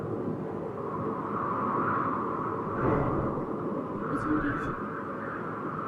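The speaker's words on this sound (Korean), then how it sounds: "바람 소리예요" A wind sound effect is played for young children during a worship sermon, a steady, whooshing roar that swells gently and holds throughout. A speaker asks a short question over it.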